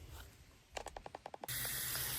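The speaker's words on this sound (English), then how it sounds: "And then we'll water it in from there." Water spraying from a hose onto a planted kale box in a farm garden, a steady loud hiss of spray starting abruptly after a series of short rhythmic clicking bursts, continuing unbroken to the end.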